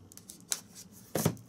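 Scissors snip through the tape seal on a boxed Iwata airbrush: a light snip, then a louder, fuller cut about half a second later, both close and crisp in a quiet room.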